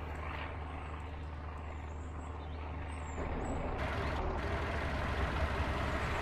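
Low, steady engine rumble of a car in the zombie survival game Surroundead, a continuous drone that grows slightly louder and rougher midway, with a brief hiss layered on top.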